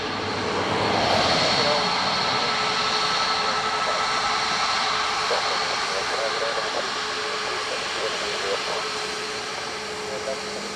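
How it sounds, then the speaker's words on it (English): Ryanair airliner from London Gatwick on approach to land at Dublin Airport, a sustained engine roar and whine that swells early and slowly fades, with a radio voice and talk running underneath. "Ryanair from London Gatwick about to touch down"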